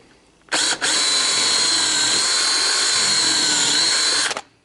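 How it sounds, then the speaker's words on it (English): A power drill boring pocket holes in wood through a drill bushing runs steadily at high speed for about four seconds, a loud continuous whine that starts and stops abruptly, with a brief catch near the start. "take the drill and you just run it down in the drill bushing"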